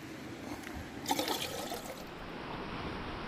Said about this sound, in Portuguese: Tem uma vertente que vamos pegar a água da vertente.